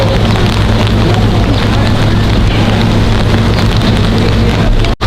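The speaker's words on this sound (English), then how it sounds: "luckily the birds don't mind the rain" Heavy rain pours down steadily on a zoo aviary at Cameron Park Zoo in a dense, loud hiss with a low rumble underneath, continuous and close, with no talking.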